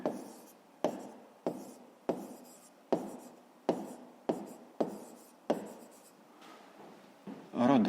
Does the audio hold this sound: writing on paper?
yes